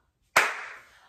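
A single crisp hand clap marking the one-syllable word plum, sharp and close with a brief reverberant tail fading out in a quiet room.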